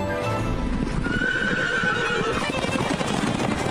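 Horses in a stable in the Paris suburbs, with steady hooves clip-clopping throughout and a clear, drawn-out whinny rising in the middle, close and fairly loud with no talk.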